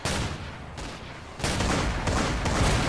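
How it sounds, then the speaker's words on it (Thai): Dense, continuous gunfire aimed at aircraft in a Roblox zeppelin air-war game, loud rapid shots blending into a roar that surges louder halfway through. "เอาปืนยิงก่อน ยิง ไม่โดน ไม่โดน ไม่โดน"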